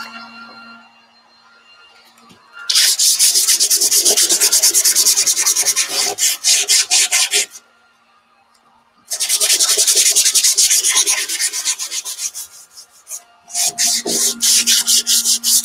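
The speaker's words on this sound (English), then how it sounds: "You can put sandpaper and all." Sandpaper rubs hard across a milk-painted wooden door to distress the finish, in three long, loud bursts of rapid scratchy strokes separated by short quiet pauses.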